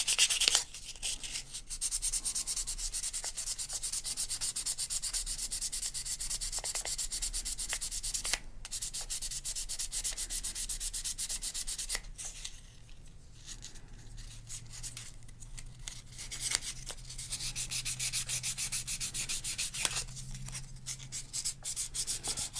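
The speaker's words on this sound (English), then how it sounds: "I'm going to take little 600 emery cloth and sand the back" Steady, continuous scratchy rubbing as 600-grit emery cloth sands the back of a pink opal being shaped into a cabochon, close and even for a long stretch.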